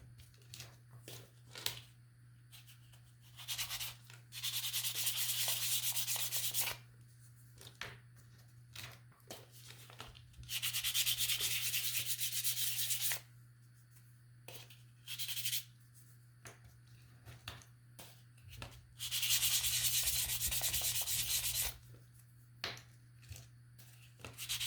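Hand sanding of a small toy truck part, broad scratchy rubbing strokes in several sustained bursts separated by quieter pauses with small handling noises, against a constant low electrical hum.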